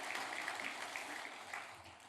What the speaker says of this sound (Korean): 다시 한번 우리 큰 박수로 하나님 앞에 영광을 함께 돌리겠습니다